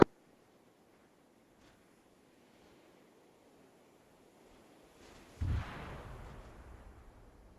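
A demolition charge detonates in the Arma 3 military game, a sudden heavy boom after a quiet stretch of faint wind, followed by a rumbling roar that slowly fades.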